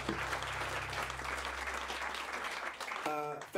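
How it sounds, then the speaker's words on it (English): Crowd applause at a live album playthrough inside a record shop, a dense, steady wash of clapping lasting about three seconds before cutting off, followed by a brief voice and a tonal hum at the end. "Big round of applause for Jared for making the record happen"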